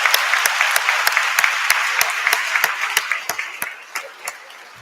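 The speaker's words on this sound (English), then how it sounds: "Let's give another round of applause for Dr." Auditorium applause at a university convocation, a thick burst of clapping from a large audience that gradually thins out into a few scattered, distinct claps as it dies away.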